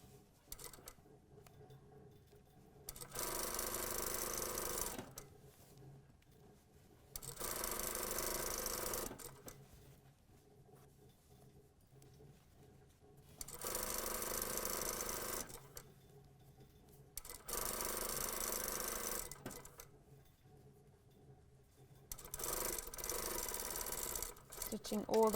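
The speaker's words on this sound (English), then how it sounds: "Stitching all the way down, back tack" A sewing machine runs in several steady bursts, stitching the inside leg seam of a pair of pants, with quiet pauses between runs; soft and close, with a voice talking at times.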